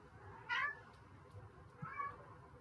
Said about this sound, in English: Why is my cat screaming at me?